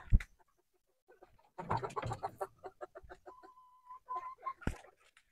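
Chickens cluck in short scattered bursts, close up inside a coop, with one hen letting out a drawn-out call among the clucks.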